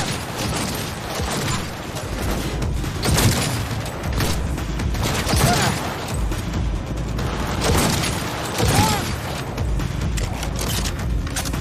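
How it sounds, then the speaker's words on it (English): Combat in the video game Cyberpunk 2077, with a grenade blast and gunfire: dense, loud and continuous volleys of shots and booms that fill the whole stretch, with a few stronger bursts. "Grenade, get back! Take cover!"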